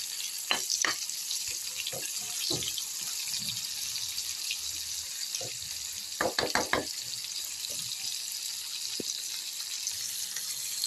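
Potatoes frying in a pan of hot oil for Bengali kakrol posto, a steady bright sizzle throughout, broken by occasional clinks and stirring taps of a utensil, with no talk.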